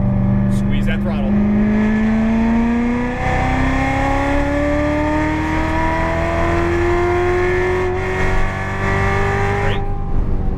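A Corvette Z06 accelerates hard on the track at Las Vegas Motor Speedway, its engine note rising steadily through the gears with a brief shift, loud and close, while a driving coach talks over it.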